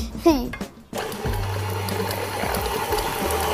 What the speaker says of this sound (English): Now we're gonna mix the butter